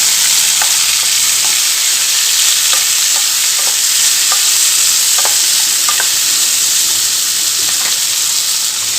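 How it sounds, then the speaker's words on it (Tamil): Drumstick, tomato and green chillies are stirred together in a pan of sambar, a loud, continuous hissing sizzle with scattered clinks and scrapes of the spoon throughout, up close and with no talking. "இப்போ எல்லாம் ஒன்று சேர நல்லா கலந்து கொடுத்துக்கலாம்."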